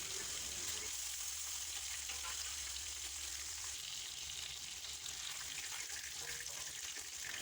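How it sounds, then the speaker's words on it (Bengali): Rohu fish pieces lightly frying in white oil in a wok, a faint, steady hissing sizzle that continues evenly throughout. "কড়াইয়ে সাদা তেল দিয়ে মাছগুলো হালকা হালকা করে ভেজে নিতে হবে"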